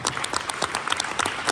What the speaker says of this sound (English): Can we give that a round of applause, please?